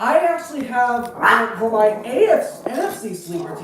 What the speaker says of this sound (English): that's one of my 2 dogs going up there and just barking like crazy at a TV